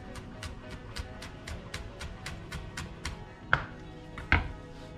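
A knife finely chopping thyme on a cutting board, with a quick, regular series of crisp taps followed by two louder, sharper knocks near the end.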